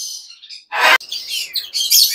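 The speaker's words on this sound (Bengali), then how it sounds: "ককাটেল," A cockatiel calls in a bird shop with shrill, repeated chirps and whistles, one loud raspy squawk bursting out near the middle, close by with no talking.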